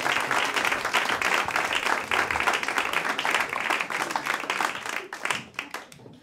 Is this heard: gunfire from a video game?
no